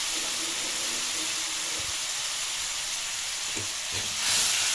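A pan of cumin, coriander and Kashmiri chilli spice mix with a splash of water sizzles steadily and loudly, with a few soft clinks and knocks of stirring near the end, for making jackfruit kofta.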